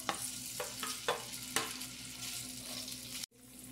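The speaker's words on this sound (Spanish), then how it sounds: "De este lado ya tengo un sartén con aceitito y vamos a freír la salchicha" Sausage frying in oil in a frying pan, a steady close sizzle and crackle with a few sharper pops and stirring bursts, then a brief break near the end.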